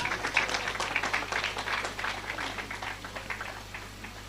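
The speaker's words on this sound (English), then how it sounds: "Triple applause for her this time." An audience at a graduation convocation ceremony claps for a graduate, with dense, steady applause from many hands that holds throughout and eases slightly toward the end.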